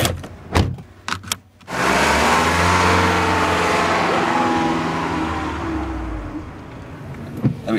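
A car passes close through a town centre with a swelling engine and tyre roar lasting several seconds, after a few brief knocks and clicks at the start.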